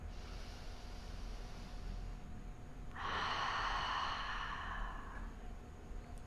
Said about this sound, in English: Full breath in. Gentle breath out.